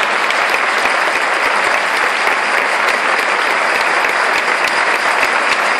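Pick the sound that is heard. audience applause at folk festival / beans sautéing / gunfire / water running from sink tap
audience applause at folk festival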